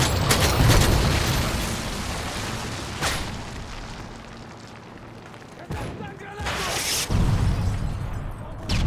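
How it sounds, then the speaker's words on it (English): Explosions from a predator missile strike in a multiplayer shooter on the Terminal map, heard as loud booming blasts with rumbling bursts that rise and fall over several seconds. "Friendly predator missile people."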